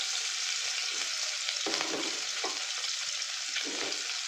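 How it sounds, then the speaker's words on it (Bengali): Fish frying one piece after another in hot oil in a wok, a steady loud crackling sizzle with brief bursts of spattering throughout, no voices. "এরপরে মাছগুলো আমি একে একে ভেজে নেব"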